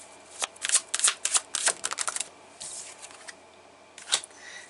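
Tarot cards handled during a reading, a close, dry burst of rapid slapping and riffling card sounds, followed by a pause and one last sharp flick, heard alone without talk.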